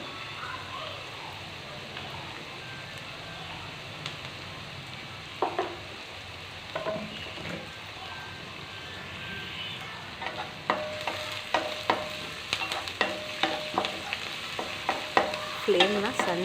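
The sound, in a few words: onions frying in a pan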